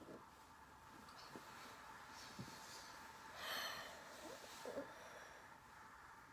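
Soft, slow ujjayi breathing through the throat with a hushed, rushing ocean-like quality, one fuller breath swelling in the middle; quiet and close.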